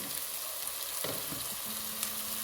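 Chopped onion and garlic paste fry in a pan, giving a steady, close sizzle with soft stirring scrapes and a faint hum near the end. No one speaks.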